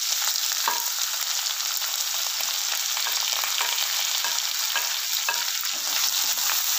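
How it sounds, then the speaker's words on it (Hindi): Chopped onion fries with cumin in a pan, a continuous close sizzle broken by repeated scraping clicks as it is stirred, with no talking. "और इसे अच्छी तरह से फ्राई करेंगे।"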